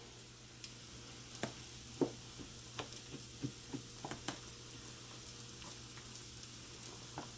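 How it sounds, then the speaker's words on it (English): Soft scattered clinks and scrapes of stirring spaghetti in a pot over a steady low bubbling hiss of boiling water, close but quiet, no talking. "you have to give it a little stir when you first put the noodles in"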